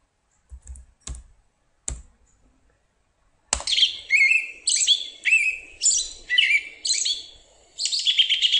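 An American robin gives its whinny call, a run of high, shrill descending notes repeated steadily and close by, after a few sharp clicking taps at the start.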